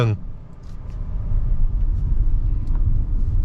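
A Nissan Kicks e-POWER AUTECH coasting along a road with the accelerator lifted, a steady low rumble of tyres and drivetrain heard from inside the cabin, continuous and moderately loud.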